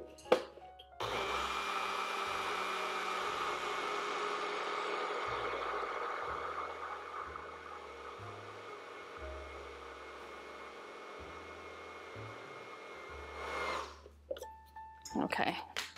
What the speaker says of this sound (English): So we're gonna blend this into a flour first, which just takes a couple minutes.